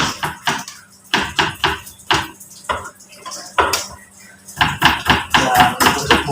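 Knife chopping chilies, shallots and garlic on a board for a stir-fry seasoning paste, with irregular bursts of close, fairly loud cuts separated by short pauses.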